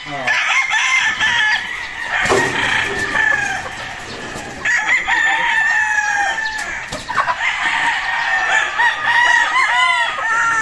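Pure Kelso gamefowl roosters at a gamefarm crowing loudly and up close, three long cock-a-doodle-doo calls in succession with some clucking between them.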